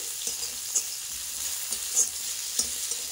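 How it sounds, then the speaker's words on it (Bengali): Chopped carrots being stirred and fried in a little oil in a pan, with a soft continuous sizzle and a few faint stirring scrapes. No voices are heard. "দিয়ে খুব ভালো মতো এটা নেড়ে ভেজে নেব একটু"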